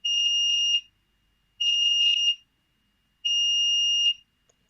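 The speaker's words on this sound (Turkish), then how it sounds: "Lazer ışığı vurduğu an gördüğünüz gibi buzzer'ımız susuyor. Işık kesilince yine başlıyor." A buzzer in a homemade security alarm circuit built from an optical mouse sounds three steady, loud beeps of under a second each, with short silent gaps between them.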